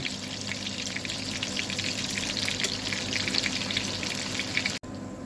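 Chicken tikia patties fry steadily in hot oil, a dense continuous sizzle with crackling pops throughout, close and fairly loud, cutting out sharply near the end.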